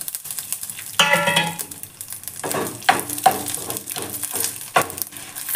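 Mustard seeds, urad dal, fenugreek and dried chillies fry in hot oil in a pan, making a close, crackling sizzle broken by repeated clinks and scrapes of a stirring spoon.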